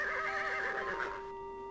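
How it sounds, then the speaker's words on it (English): A startled black horse in King's Quest VI gives one loud, wavering neigh that trails off, with no talk over it. "The sound of Alexander's footsteps startles the black horse."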